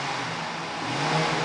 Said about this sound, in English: the reason I'm revving it is so you can hear the engine